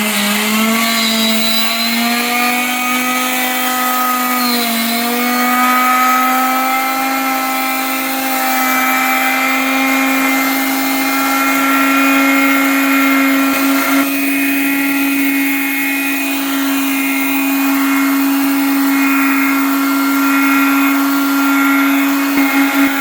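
Power sander working an epoxy-coated wood project indoors, a steady continuous motor whine with a strong hum running loud and unbroken throughout, no talking.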